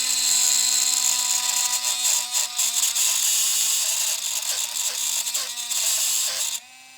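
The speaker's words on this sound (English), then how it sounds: "whenever we go to Dremel this thing out" Dremel rotary tool grinding away dashboard plastic during an Evo 9 dash install, a loud steady high-pitched whine that wavers slightly as it bites, then cuts off near the end.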